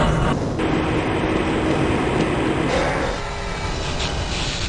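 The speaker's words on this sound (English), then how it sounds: "This train is inbound from the Area 8 topside dormitories to the Central Transit Hub in Area 9." Inside the Black Mesa transit system in Half-Life Blue Shift, a tram rides along with a steady, loud rumbling roar and faint rattling, no voices heard.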